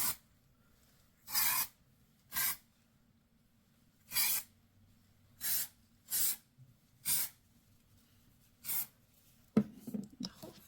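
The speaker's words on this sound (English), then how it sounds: "Dry shampoo it first." Dry shampoo sprayed onto thin hair in a series of short, separate hissing bursts, about eight of them, close up with quiet gaps between and a brief rustle at the end.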